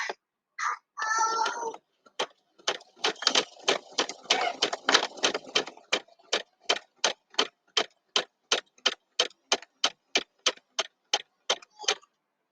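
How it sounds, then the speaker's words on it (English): Sewing machine stitching around a fabric face mask, a series of evenly spaced mechanical clicks and thumps in steady rhythm, close and moderately quiet, with a brief denser whirring stretch early on. "as I sew around the outside of my fabric"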